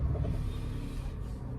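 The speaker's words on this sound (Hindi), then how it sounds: "तो एक बार मैं स्टार्ट कर लेता हूँ गाड़ी को। इंजन, इससे आपका इंजन नॉइस भी पता लग जाएगी।" A Maruti Celerio VXI CNG car engine turning over and settling into a steady low idle, a close, even rumble with no voices.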